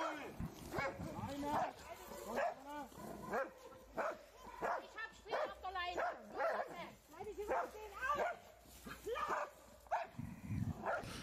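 A dog barks, yips and whimpers while police officers beat it, its cries mixed in with loud, agitated voices talking throughout.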